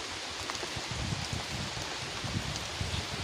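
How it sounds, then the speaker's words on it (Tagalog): Steady, roaring broadband noise of strong super typhoon wind, rushing continuously with gusty low rumbles throughout, no voices. "Lumalakas pa yung hangin."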